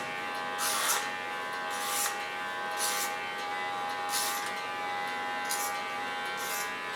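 An electric hair trimmer buzzes steadily at close range during a haircut, its whine swelling in brief regular surges roughly every second as the blades move through hair.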